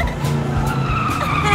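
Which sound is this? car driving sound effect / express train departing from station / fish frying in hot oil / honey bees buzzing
car driving sound effect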